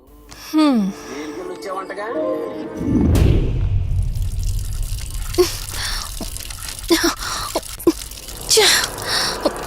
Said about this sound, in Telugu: నువ్వెంత కట్టినా ట్యాప్ ఆగదమ్మా, అది రిపేర్లో ఉంది.